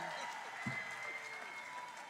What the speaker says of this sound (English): He has a big cheering section.